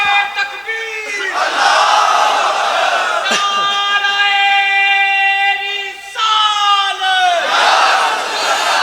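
Crowd at a Shab-e-Barat religious gathering shouting the takbir chant, a few loud, drawn-out collective cries answering each other in sustained waves, near and strong.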